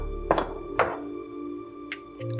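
SAS-12 shotgun bolt carrier riding rearward over the hammer: two close, sharp metallic clunks about half a second apart, followed by a quiet stretch with faint ticks.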